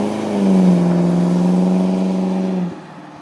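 A 1999 Ford Crown Victoria Police Interceptor drives by with a loud, steady droning exhaust note that holds for a couple of seconds and then drops away quickly as it passes.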